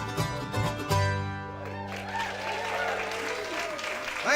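Audience at a show at the Isis Music Hall breaks into sustained applause as the band's final sustained notes fade, the clapping swelling and continuing steadily to the end.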